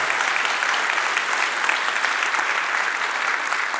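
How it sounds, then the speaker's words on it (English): An expo audience at the Rio in Las Vegas claps in steady, dense applause that holds at an even level throughout, with faint voices mixed into the crowd noise. "So let's give ourselves a big round of applause for that."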